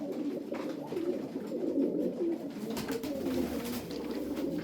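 Pigeons coo steadily, several birds overlapping in low, soft murmurs with a constant background hum and no voices.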